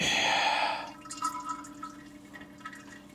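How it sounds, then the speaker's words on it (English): Engine oil drains from a Sprinter van into a catch container, beginning with a loud steady pour that tapers into a series of soft, close drips. "we're gonna catch this oil as well"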